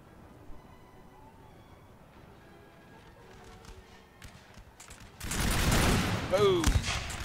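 A massed musket volley from a line of infantry in Napoleon Total War erupts as a loud, dense crackle of shots in the second half, after quieter scattered battle sounds and distant firing.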